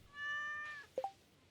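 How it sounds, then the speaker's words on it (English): A cat in the Stardew Valley video game meows when petted: one clear, bright meow with a tonal ring, then two quick chirpy blips, crisp and alone. "Pet the kitty."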